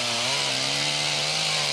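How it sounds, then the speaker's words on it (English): A chainsaw runs at steady high revs on a 1988 Camel Trophy Land Rover expedition in Sulawesi. It gives a loud, continuous buzzing engine drone, near and unbroken for the whole moment, with no talking. "The chainsaw will prove to be an indispensable tool."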